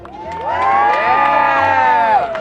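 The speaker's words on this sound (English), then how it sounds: "can we just have a big cheer for the Assistance League? 1, 2, 3." A crowd of adults and children cheers and whoops together for the Assistance League at an outdoor charity duck-race event, a loud sustained roar of voices rising on cue and holding for a couple of seconds.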